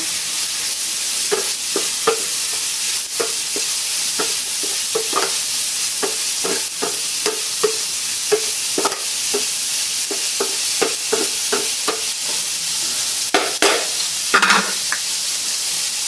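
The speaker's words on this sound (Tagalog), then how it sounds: "Haluin natin." A banana blossom dish seasoned with pepper and Ajinomoto sizzles steadily in a pan, with repeated scraping stirs of a utensil clicking and knocking against the pan throughout, close and loud.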